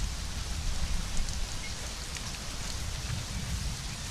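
Steady rain in the video game Conan Exiles, a constant hiss of falling water with soft low rumble, even and unbroken throughout, no voices.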